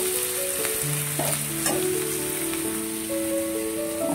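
Onions and egg frying in a pan, a steady crackling sizzle throughout, close and moderately quiet, with sustained background tones beneath.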